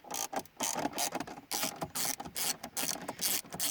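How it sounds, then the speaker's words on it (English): A T25 Torx driver undoes two screws in the shifter trim of a Volvo V50/S40, giving close, rapid ratcheting clicks in repeated bursts with short pauses between them. "you're going to take the T25 here and just undo your two screws here and here"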